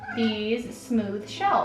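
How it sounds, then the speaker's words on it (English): A pet cat meows close by in a kitchen where pastry is being piped, giving a few short whining calls over a person speaking. "Sorry about my cat."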